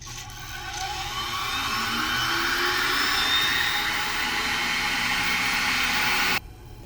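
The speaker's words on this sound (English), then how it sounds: "for our microhematocrit centrifuges, we're going to run them anywhere from 3 to 5 minutes" A microhematocrit centrifuge spins at speed, giving a loud, steady whirring roar with rising whine tones that stops abruptly near the end, alone without speech.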